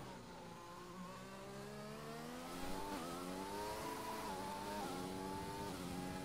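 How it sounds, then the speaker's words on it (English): A Williams race car engine in a racing video game on the Japanese GP circuit revs high with rising harmonic pitch, then drops briefly at a late upshift before climbing again, steady and close with no talk. "Late upshift there from Hazard."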